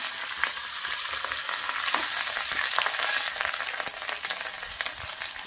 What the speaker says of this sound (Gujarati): 1 મોટી ચમચી એટલું રાઈ જીરું નાખું છું, તેલ ગરમ થાય એટલે